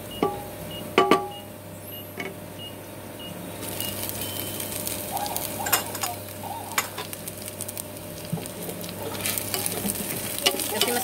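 Onion sautéing in a pan for pinakbet, a steady sizzle with frequent scraping and clinking from stirring, a few sharp knocks early on, and a high electronic beeping in the background.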